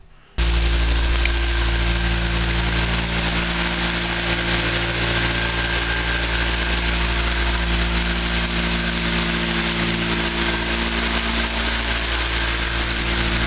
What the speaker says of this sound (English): I have about half of my deck I have done with both 60 and 80 grit sandpaper